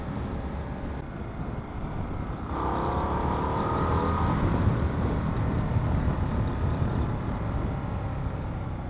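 A 2025 Indian Scout 101 motorcycle on the move under hard emergency braking, heard as a steady, loud rush of engine and wind noise that swells and roughens partway through and stays constant to the end.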